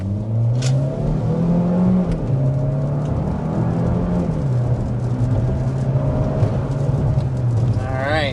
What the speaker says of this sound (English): kind of taking off, going up to about 50 miles per hour